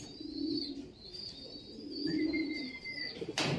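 Pigeons coo softly in low, rolling bursts close by, with a thin high whistle and faint rustling in the background.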